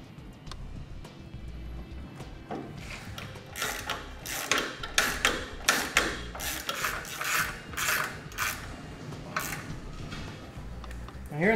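Wheel nuts are threaded back onto the studs of a Dexter electric trailer brake assembly against the axle flange, with a run of ratcheting clicks and metallic rattles, close up.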